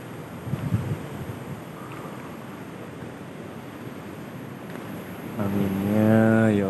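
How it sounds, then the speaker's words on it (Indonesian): Strong wind gusting over a South Coast beach in Java, a steady broadband roar with surf-like rushing that swells louder toward the end, where a low tonal hum rises beneath it. "Anginnya, ya Allah"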